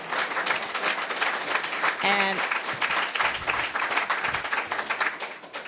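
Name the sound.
audience applause for panelists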